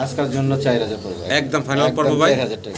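A Gorra pigeon, a fancy breed kept on a pigeon farm, gives low rolling coos close by, overlapped by people talking throughout.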